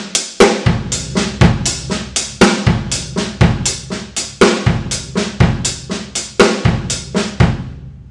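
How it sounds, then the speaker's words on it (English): A drum kit plays a linear five-note pattern, with snappy left-hand accents landing before each bass drum stroke, tight rapid hits in a repeating cycle, loud and close with no talking. "Left hand accents before the bass drum comes in."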